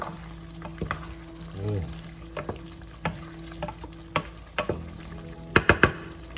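Chicken afritada, a Filipino tomato-based chicken stew with green bell peppers, gets stirred in a pot: soft simmering bubbles under scattered spoon clacks and scrapes, ending in a few sharper knocks, no voices.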